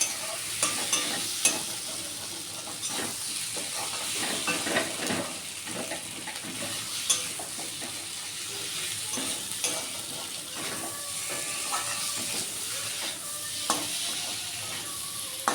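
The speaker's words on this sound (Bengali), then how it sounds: "একটু ভাজা ভাজা করে জল দিই" Capsicum sizzles steadily in a pan while being stirred, with a constant frying hiss and scattered scraping clicks of a utensil against the pan, moderately quiet and close.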